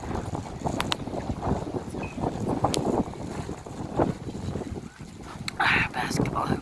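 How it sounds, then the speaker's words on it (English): Strong gusting wind buffets the microphone during a massive wind storm, a constant rough rumble with fluctuating bursts, while a person talks over it. "Holy cow, it's windy."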